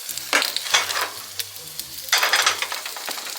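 Breakfast frying in a pan, a close hissing sizzle with bursts of louder spattering and stirring scrapes, rising and falling over a few seconds, no talk.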